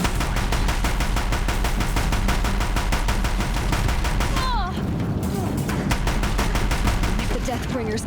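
Rapid, steady automatic gunfire from Deathbringer war machines in Horizon Zero Dawn pounds on for several seconds, then breaks off into scattered, fainter shots and rumbling battle noise.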